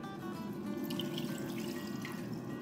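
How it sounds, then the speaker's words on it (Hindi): About one and a quarter cups of water pour into a pan of chicken kofta curry, making a steady, continuous splashing gurgle at close range, with no voices. "अब इसमें हम अपनी शोरबे के हिसाब से पानी डालेंगे जितना हमें पसंद है।"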